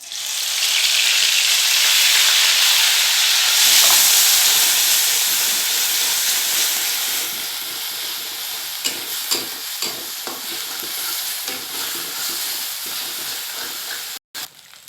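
Ginger, garlic and spices frying in a pan for a spicy tomato fish curry give off a loud, steady sizzle and hiss that eases after a few seconds, with light stirring scrapes and no talk.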